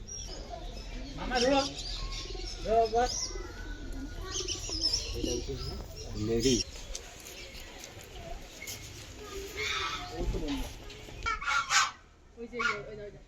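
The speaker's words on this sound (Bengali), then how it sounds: "এটা পিজন।" Pigeons cooing among other fowl at a sightseeing stop in Pelling, Sikkim, soft repeated coos scattered through the scene with people chatting nearby.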